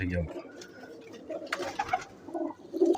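Golden pigeons coo softly in low, rounded notes, with a few fainter bird sounds mixed in amid background noise.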